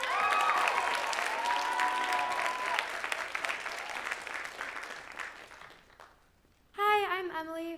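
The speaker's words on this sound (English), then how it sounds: "a great loud round of applause for Emily DeRoyne" Loud, sustained applause and some cheering from a school audience at a writers' week reading as the first speaker is welcomed, fading out after several seconds before a voice begins.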